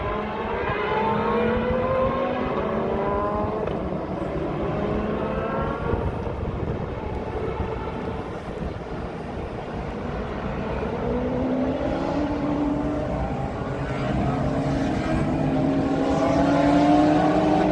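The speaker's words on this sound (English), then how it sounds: "Those rotary engines sound so wicked when they're at full throttle." Mazda rotary-engine race cars at a historic sportscar event at Road Atlanta accelerate at full throttle, a dense, continuous high-revving roar with rising engine tones from several cars, loud and steady with no talk.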